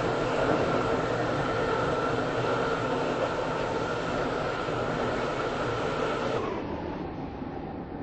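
A Class 730 train in the Roblox game SCR runs steadily toward the station with a continuous loud rail roar and hum, then eases and quiets slightly near the end as it slows on arrival.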